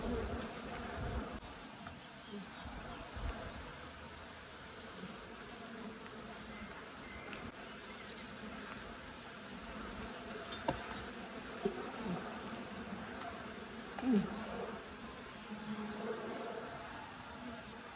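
Honey bees buzzing around a hive at a rural countryside apiary, a dense continuous hum of many wings close by, steady throughout with occasional louder passes near the listener.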